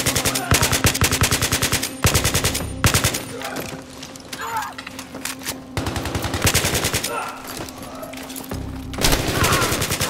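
Loud, close bursts of automatic rifle fire in the Battlefield 3 campaign, rapid rhythmic volleys broken by short pauses over the game's background noise, with a player's voice briefly audible.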